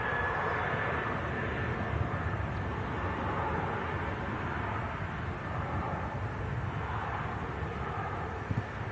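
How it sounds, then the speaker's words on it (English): Emirates A380 airliner taxiing in at an airport, a steady low engine rumble and hum that holds at a constant level throughout, fairly distant and mixed with light wind noise. "there it is, Emirates A380 just taxiing in"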